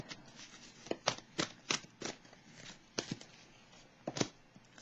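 Tarot cards being shuffled by hand, a series of about a dozen quick crisp riffles and slaps in an uneven rhythm, close and fairly quiet with no talk.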